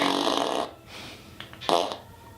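A loud, drawn-out fart sound effect in a children's picture book reading, a long rasping burst followed by a shorter, sharper blast, heard alone without talk.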